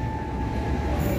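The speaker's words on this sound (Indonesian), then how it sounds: "Ada kereta komuter line Garut masuk jalur 1." A commuter line train to Garut pulls onto platform track 1 at a station, a steady loud rumble of wheels and cars with a faint high squeal running through it.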